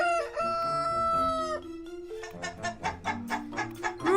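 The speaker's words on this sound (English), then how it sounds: "Rooster." Close rooster crow, a long drawn-out call followed by a run of rapid clucking bursts, loud and alone.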